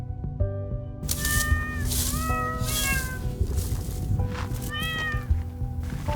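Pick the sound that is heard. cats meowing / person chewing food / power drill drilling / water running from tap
cats meowing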